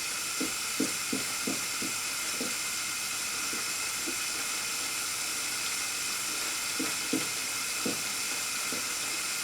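Meat pie filling thickened with flour bubbling in a pan on the stove, a steady soft hiss broken by scattered low pops and blips of bursting bubbles, fairly quiet and close.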